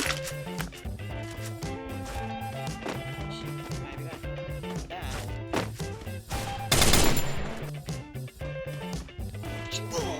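Gunfire from the video game Free Fire rattles in quick bursts over busy game music and effects, with a louder, denser volley near the end.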